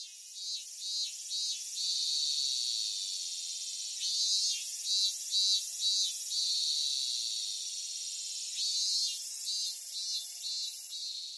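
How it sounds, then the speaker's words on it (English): Loud, high-pitched summer cicadas in Japan buzz in pulsing rhythmic bursts, rising and falling in waves across a warm outdoor background. "Last one is the cicadas, and so they're out kind of in full force right now."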